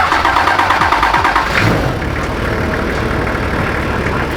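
A modified Toyota Land Cruiser 100 Series with a swapped engine cranks and catches, then settles into a loud, steady, rumbling idle close by.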